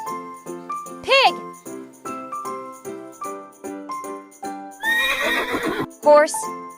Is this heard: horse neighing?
yes